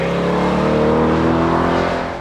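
A Chevrolet Corvette Stingray's 6.2-liter naturally aspirated V8 revs steadily, a deep, loud, close engine drone holding its pitch before easing off slightly at the end.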